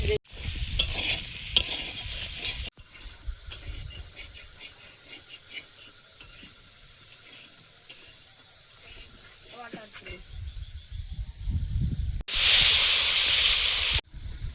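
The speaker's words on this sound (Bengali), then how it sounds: "এবার আলুটা দিয়ে দেবো, খুন্তি দিয়ে যেগুলো বড় একটু হাফ করে দেবো" Potatoes sizzle in a hot pan for aloo dum while a spatula stirs and breaks up the larger pieces, bursts of scraping and frying with quieter gaps, ending in a loud hiss.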